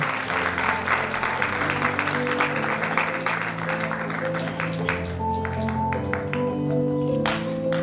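Lively clapping from an audience at a high school centenary ceremony in Buftea fills the first half, then thins to a few scattered claps over softly playing music.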